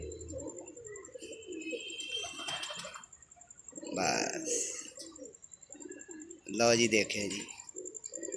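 Pigeons coo softly in a loft at a four-day-old chick opening, a low purring murmur broken by flutters and brief louder bursts, with a steady high electronic whine and people talking nearby.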